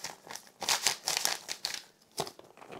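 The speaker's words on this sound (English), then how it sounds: "Got some ASMR plastic bag noise going there." A plastic bag of dry malt extract for a pale ale kit crinkles and crackles up close in uneven bursts of rustling, with short pauses between handlings and no talking.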